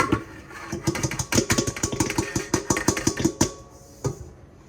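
A stand mixer works cinnamon bun dough ingredients with a fast, rhythmic thumping whir, close and fairly loud, then winds down and stops near the end.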